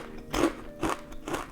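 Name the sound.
biting and crunching Trader Joe's vegan crunchy curls chips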